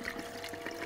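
Water runs from a hose into a car radiator, making a faint, steady, soft splashing trickle with no voices.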